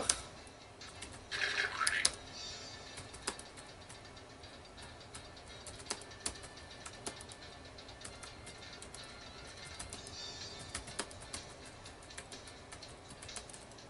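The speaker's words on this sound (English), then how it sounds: "all you do to start the game is to just start typing" Keys clatter on an Apple iBook Clamshell keyboard in scattered, irregular taps, close but soft, after a brief louder burst at the start, with no one talking.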